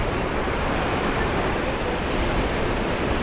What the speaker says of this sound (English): Just look at the waterfall